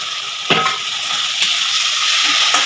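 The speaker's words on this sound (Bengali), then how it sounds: "ভালো আমি আলুটা আর মশলাটা ভালো করে কষে নিচ্ছি।" Fried potatoes stir-fried with spice paste for a paneer and chickpea ghugni, a loud continuous close sizzle with a few spatula scrapes against the pan.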